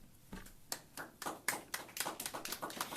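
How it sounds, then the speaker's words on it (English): Scattered audience applause at a Cook County awards event, a handful of people clapping unevenly at moderate distance, the claps thin and sparse at first, then thickening into a steadier patter. "let's give Sis another round of applause"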